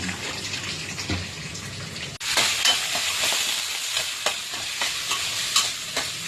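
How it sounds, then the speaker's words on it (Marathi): Puffed rice (kurmura) chivda with dry fruits roasting in a pan, stirred with a spoon: a steady close sizzle with repeated scraping stir strokes, a brief pause, then louder continuous frying and stirring, no talk. "आपण त्यातलं काहीतरी स्पून किंवा काहीतरी फिरू या तर तो खाली बसणार नाही थोडं क्रिस्पी होऊ द्या"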